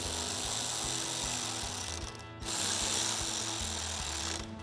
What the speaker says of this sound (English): tighten those down with the T15 Torx socket